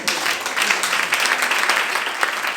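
Church congregation applauding, a dense steady wash of clapping from many hands, fairly close and continuous throughout.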